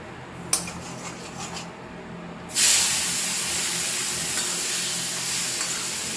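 Vegetables, cut cauliflower, hit hot oil seasoned with turmeric and hing, setting off a sudden loud sizzle that holds steady after a few light clinks of a pan, close by and without talk.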